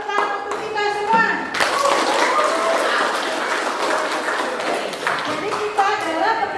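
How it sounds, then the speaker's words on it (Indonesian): An audience claps together after a classroom talk at an Indonesian teacher-training session, the applause swelling into a steady broadband wash for several seconds, with voices and some children's speech audible over and around it. "berikan tepuk tangan untuk kita semua."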